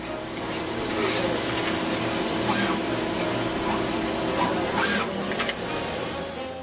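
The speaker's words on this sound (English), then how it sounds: "we use another machine that's much like the first chip shooter but more accurate in placing the components" A pick-and-place chip shooter machine on a circuit board assembly line runs with a steady mechanical whir and hiss, a few faint clicks and taps over the continuous hum of the factory floor.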